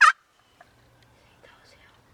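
A wild turkey lets out one short, sharp gobble at the very start, then faint calls follow in a quiet field.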